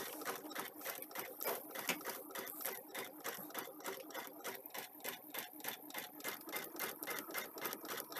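A computerised sewing machine stitches a design loaded from USB, running as a steady, fast, even mechanical chatter that is close and continuous throughout, with no talk.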